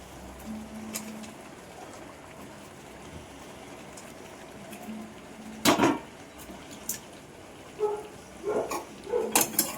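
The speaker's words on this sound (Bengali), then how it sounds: "আমি এর মধ্যে পনিরগুলো ঢেলে দিচ্ছি।" Paneer cubes poured into a pan, soft clattering and scraping bursts over a faint background hum, growing busier toward the end, with no talk.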